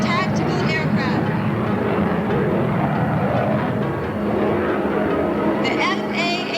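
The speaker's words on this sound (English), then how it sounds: "The F/A-18 Hornet." F/A-18 Hornet jet at a 1993 air show at Hanscom Air Field, a continuous broad engine roar filling the whole stretch, loud and steady with crowd or announcer-level noise beneath.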